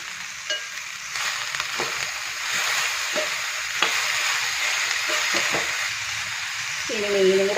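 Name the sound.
chopped bitter gourd added to pan and frying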